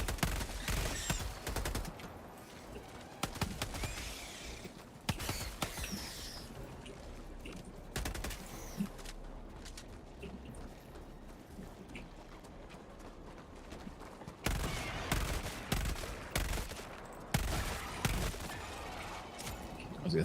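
Bursts of gunfire in a PC multiplayer shooter, including railgun shots, crackling in short volleys at the start and again toward the end, with quieter stretches of game ambience between.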